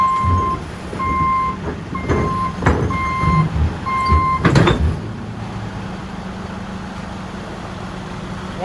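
A retriever truck reverses straight back onto wheel chocks, its back-up alarm beeping steadily in short evenly spaced pulses over a low diesel engine rumble, then the beeping stops and the engine idles on.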